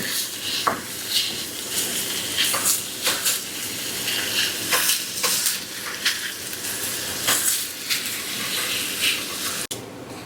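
Sausage sizzles and fries in a pan for a homemade supreme pizza, with a steady crackle and scattered sharp spatter pops and utensil clicks, close and alone.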